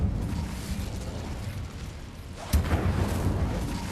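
A fire spell cast in the Hogwarts Legacy video game erupts partway through as a sudden burst with a rushing, crackling flare, set over a steady rumbling game background.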